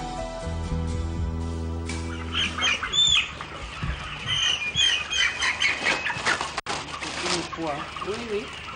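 Broiler chickens on a poultry farm cluck and chirp in a busy, overlapping flock chorus, with soft rustling and occasional wing flaps close by, continuing steadily throughout.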